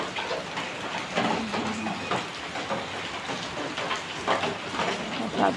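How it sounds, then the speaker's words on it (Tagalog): Steady, dense hiss of rain pouring down, continuous and fairly heavy with no voices, just the constant wash of falling water. "biglang bumuhos yung ulan"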